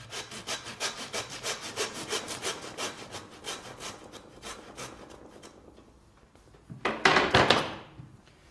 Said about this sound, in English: So we're just going to saw through where the ribs meet the backbone.